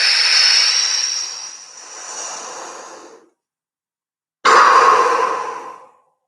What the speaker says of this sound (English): we're going to start our 3 hyperventilation breaths.